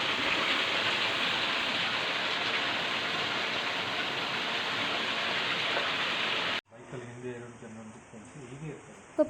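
Steady heavy rain hisses loudly during an off-road jeep ride at Kodachadri, then cuts off abruptly to a quieter scene with a voice talking.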